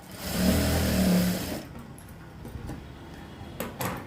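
Sewing machine stitching blouse fabric, a steady mid-pitched mechanical whir running close for about a second and a half before stopping, followed by faint handling noises and small clicks.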